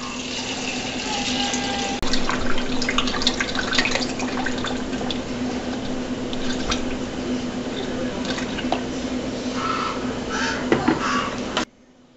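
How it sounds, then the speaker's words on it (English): Homemade wine pours steadily into a carboy with a bubbling, gurgling splash for several seconds nearby, with some faint background noise, then stops abruptly. "So we're going to go ahead and pour it into our carboy."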